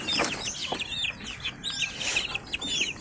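Young Gilmore Hatch gamefowl chickens, about a month old, clucking and peeping in quick scattered calls, fairly close and moderately loud with no talk.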